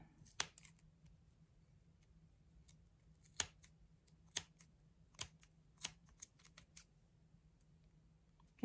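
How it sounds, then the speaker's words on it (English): Sharp scissor snips cutting through paper strands, about a dozen irregularly spaced crisp cuts close up against a quiet low hum, no talking. "with big scissors, we're going to cut up through this little slot."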